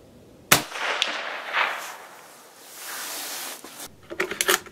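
A sharp, loud rifle shot from a Carcano 1941 fired at a bowl target 100 yards away cracks once, then a long echo rolls out and fades, followed by a few quick rustling clicks.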